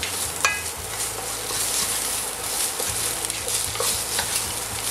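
Tomato frying in a pan with veal and mushrooms, giving a steady, close hiss of sizzling oil with faint scrapes and stirs under it and no talking.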